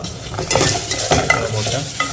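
Green chillies frying and being stirred in a pan for a potato curry, with a steady close sizzle and scraping stir strokes throughout.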